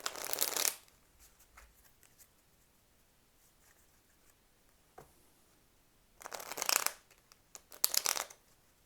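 Tarot and playing cards from the Legitimate Tarot, Sagana de Sorte and Bicycle decks are shuffled in quick riffling bursts at the start and again near the end, with quiet pauses between, close and crisp.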